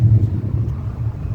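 A Charger's engine at a car show gives a brief, loud, deep rumble with no talking over it.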